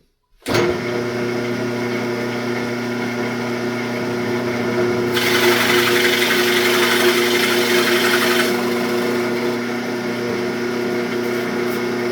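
A power drill turns a Forstner bit into wood to bore wheel holes for a toy pickup truck. The motor gives a steady high whine that swells louder and rougher for a few seconds while the bit cuts, then settles back.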